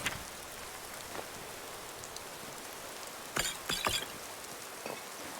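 Steady rain falls in the video game Skyrim Special Edition, a soft, even hiss broken by a few sharper patters and clatters.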